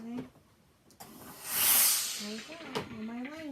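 Steam iron hissing in a broad burst while pressing a quilt during quilt-as-you-go sewing, swelling and fading over about a second, with someone talking before and after.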